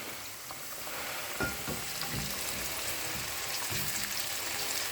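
Tomato sautés in oil with onion and garlic in a pan, giving a continuous hissing sizzle with occasional light stirring scrapes, close and steady, with no talking.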